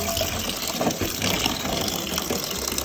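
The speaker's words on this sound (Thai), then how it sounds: "เปิดน้ำล้างนะคะ" Tap water runs steadily to rinse mangoes, a close, continuous gushing splash of even loudness throughout, with no talking.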